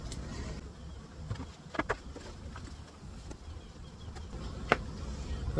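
Honey bees hum around an opened hive during a fall honey harvest, a soft, steady buzzing drone punctuated by a few brief knocks and clicks nearby.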